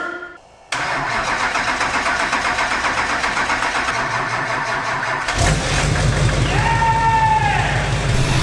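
A cold start on an LBZ-swapped OBS truck: the starter cranks on and on in a rapid rhythmic churn for several seconds, then the engine catches and settles into a loud, close, rumbling idle.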